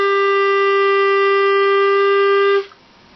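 A Bb clarinet holds a steady, pure A for about two and a half seconds, loud and close, then cuts off into quiet room noise.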